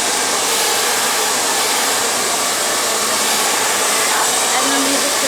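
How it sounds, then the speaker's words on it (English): A hair dryer blows a steady, loud, broadband roar throughout while styling hair into waves, with faint speech partly buried beneath it. "You're not going to hold the blow dry there because you risk burning her hair."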